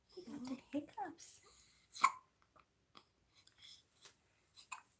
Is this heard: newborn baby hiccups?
yes